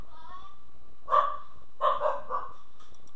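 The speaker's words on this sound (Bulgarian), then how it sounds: "Съжалявам, ако чуете кучето ми." A pet dog barks a few times in the background during a World of Tanks game session, short sharp yaps in two brief bursts over a steady tone, while someone talks.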